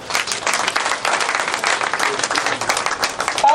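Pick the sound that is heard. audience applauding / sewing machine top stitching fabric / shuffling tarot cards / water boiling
audience applauding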